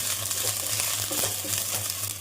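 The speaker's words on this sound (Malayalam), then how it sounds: "ചെറിയ തീയിലാണ് ഞാൻ വഴറ്റിയെടുക്കുന്നത്" Drumstick leaves with onion, garlic and chillies sautéing over a low flame in a pan, a steady close crackling sizzle with light stirring scrapes, no voices.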